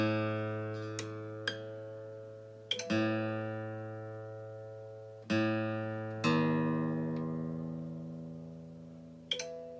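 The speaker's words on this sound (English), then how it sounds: "It makes a difference when you tune your guitar and your instrument." Acoustic guitar strings are plucked one at a time and left to ring while being tuned with the GuitarTuna app, each sustained note decaying slowly before the next pluck, five or six in all, quiet and close with no talking.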